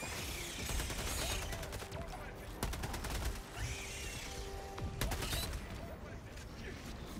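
Gatling sentry in Helldivers 2 firing rapid bursts, dense rattling gunfire with sharp repeated cracks amid loud battle noise, with players talking over it.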